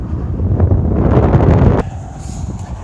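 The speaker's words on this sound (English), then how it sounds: "we are pushing a decent headwind, and we're still going uphill a little bit" Strong headwind buffeting the microphone on an uphill road near Las Vegas, a loud, low, roaring rumble that drops off abruptly partway through to a quieter, thinner rush.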